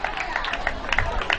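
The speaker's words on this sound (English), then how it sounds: "I'm going to clap for her." Audience clapping at a school graduation party, a modest patter of hands from a small crowd with murmuring voices underneath, brief and moderately loud.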